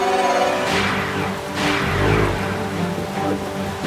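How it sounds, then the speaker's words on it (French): Approaching storm in a cartoon farm scene: dense hissing rain with rising whooshes and a low rumble swelling around the middle, loud and continuous over faint music. "Oh non! Une tempête approche."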